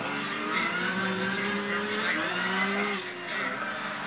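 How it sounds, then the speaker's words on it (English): A car engine drones and revs steadily, pitch rising and dipping as it shifts, with a racing hum throughout and no talking. "But listen to the engine."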